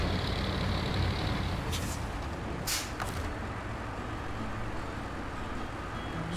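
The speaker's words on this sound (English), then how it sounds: "The sound of this engine though, of this truck," A heavy truck engine in the SnowRunner video game rumbles steadily and low, with brief hissing air bursts breaking through near the middle.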